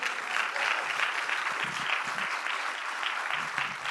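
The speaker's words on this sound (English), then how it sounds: "can we applaud her for that first?" An audience applauds Jodie Foster, a dense, continuous wash of clapping from many hands that holds steady at a fairly close, full level for several seconds.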